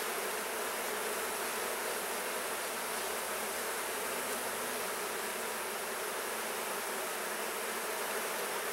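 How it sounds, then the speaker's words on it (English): Honey bees swarming around an open hive during a beekeeping inspection, a dense, continuous loud buzz that fills the whole stretch without breaks, close to the listener. "you can see when the bees start coming up and start bouncing off your veil"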